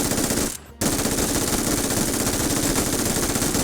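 An MG3 machine gun in PUBG fires sustained rapid automatic fire up close. A split-second pause breaks the stream before it resumes, loud and continuous, with no voices.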